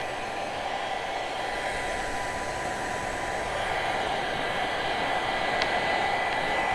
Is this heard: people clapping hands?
no